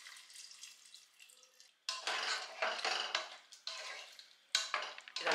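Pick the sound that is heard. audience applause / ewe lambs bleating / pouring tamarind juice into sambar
pouring tamarind juice into sambar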